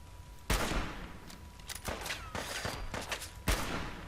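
Rapid gunfire in Fallout 4, sharp close shots with a couple of heavy booming blasts and a scatter of quicker cracks between them, echoing into a noisy background.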